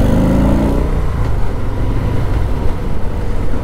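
Harley-Davidson Low Rider S motorcycle engine rumbling steadily while riding on the road, a loud, continuous low-end drone with a brief rise early on and no talking.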